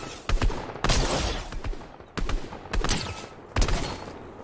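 Gunfire from the Fortnite video game, with several sharp broadband shots landing in bursts, among them a headshot. The shots come in separated groups, loud and close, with a bit of trailing game noise between them and no talk.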